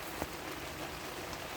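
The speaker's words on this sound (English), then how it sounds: "You can hear the rain falling." Steady rain falls outdoors over a garden, an even broadband hiss of drops with a faint patter, continuous and moderately quiet throughout.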